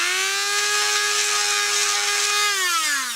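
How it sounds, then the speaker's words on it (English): Dremel rotary tool whining steadily at high speed while grinding out drilled holes in wood, a loud continuous tone that holds level before dropping slightly in pitch near the end, with no talking. "So what I've done, I've just gone round with my Dremel."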